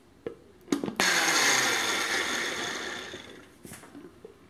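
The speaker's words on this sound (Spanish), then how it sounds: "ya con los chiles en la licuadora y el agua que sobró de la cocción de los mismos, vamos a darle un toquecito extra de sabor con un poco de jugo de naranja. Lo añadimos y lo molemos" A kitchen blender grinds soaked chiles with their leftover cooking water and a splash of orange juice: a few clicks, then a loud, steady whirring roar that slowly eases, followed by another short burst.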